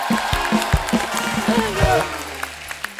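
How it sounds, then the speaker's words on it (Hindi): Studio audience applause on a comedy talk show, a steady wash of clapping lasting a few seconds while people keep talking over it. "एक बार जोरदार तालियां बनती"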